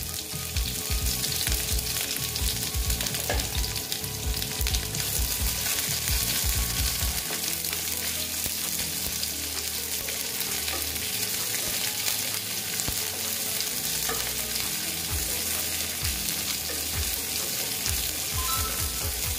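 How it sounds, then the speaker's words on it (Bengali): Chopped onion frying together with garlic in a pan, a loud unbroken sizzle with repeated stirring scrapes and low knocks from the utensil throughout. "দেখো পেঁয়াজটা আমি এটা ভেজে নেব। দেখো পেঁয়াজটা আর একটু ভেজে নিচ্ছি।"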